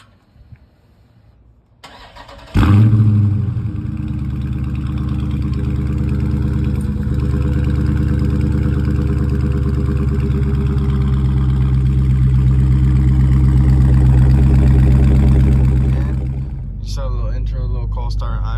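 A Dodge Charger Scatpack 392 fires up from a cold start with a sudden loud roar, then settles into a deep, rumbling, steady idle that eases slightly near the end.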